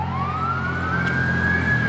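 An ambulance siren wails on a city street, a loud, close, steady tone slowly rising in pitch over constant traffic rumble, with no voices.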